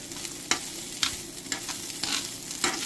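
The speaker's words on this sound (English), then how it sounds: "I guess you can fry it up. It kind of sticks a little bit. So yeah, I don't know how long I'm going to have to stir this." Organic quinoa and brown rice with garlic frying in a pan, a steady sizzle broken by regular scraping strokes of a spoon about every half second, close and clear with no talking.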